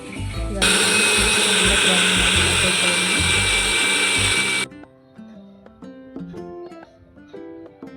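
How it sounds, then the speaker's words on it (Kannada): A mixer grinder whirs loudly and steadily for about four seconds as it powders fried pistachios and spices, then cuts off, leaving softer kitchen sounds. "ಎಲ್ಲ ಫ್ರೈ ಮಾಡಿ ಇಟ್ಕೊಂಡಿರೋ ಎಲ್ಲ ಐಟಮ್ಸನ್ನು ಗ್ರೈಂಡ್ ಮಾಡಿ ಇಟ್ಕೋಬೇಕು"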